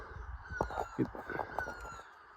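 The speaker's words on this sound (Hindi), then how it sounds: "ऊपर बहुत सारी चिड़ियाँ क्यों क्यों कुछ कर रही हैं।" Many birds calling overhead near a hilltop Maa Bhagwati temple in Uttarakhand, a scatter of harsh squawks and cries at moderate distance, faint against the open-air background.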